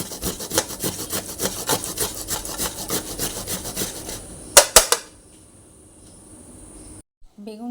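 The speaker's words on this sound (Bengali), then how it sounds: "পুরো বেগুনগুলোকে এইভাবে আমি গ্রেট করে নেব" Whole eggplants (brinjal) rubbed against a grater in steady rhythmic rasping strokes, close and fairly loud, followed by a couple of sharp knocks and then near silence.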